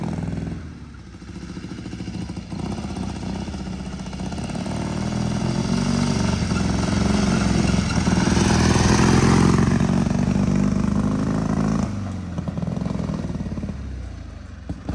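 A motorcycle engine idles close by with a rough, steady rumble that swells in revs for several seconds before settling back, running alone without voices.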